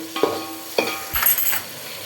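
Mixed vegetables and cauliflower sauté for veg biryani in a pan; a few distinct scrapes and clinks of a spoon against the vessel come in separate strokes over a quiet, soft sizzle.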